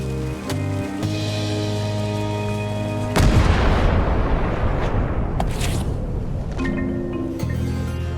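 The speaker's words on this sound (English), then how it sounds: "Ready for cannon firing." Cannon fire in the video game Return to Monkey Island: a deep, loud boom bursts out over sustained game music and rumbles away, followed by a lingering noisy tail before the music resumes.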